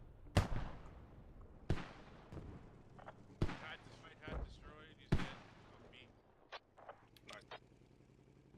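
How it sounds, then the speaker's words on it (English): Mortar fire in the military shooter Squad, heard as several sharp booming thumps spaced a second or two apart, fairly distant and mixed under ongoing game noise and a commentator's voice. "Some mortars firing from Hulsane."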